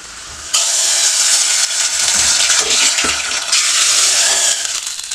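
Hot tempering is poured into a pot of fenugreek leaf dal with a loud, sudden sizzling hiss that bursts in and keeps crackling steadily, close and strong.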